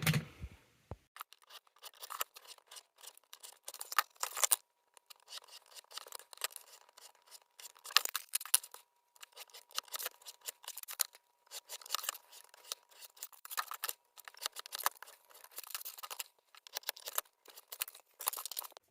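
Scissors cutting out a Mandalorian armour shoulder plate shape: continuous close snipping and crisp cutting strokes in irregular bursts, fairly quiet, with small pauses between cuts and no talk.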